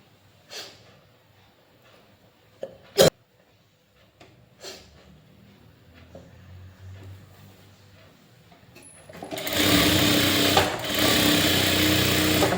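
A sewing machine stitches the lining inside a puff sleeve, its motor starting after several scattered handling knocks and rustles, then running loud and continuous near the end.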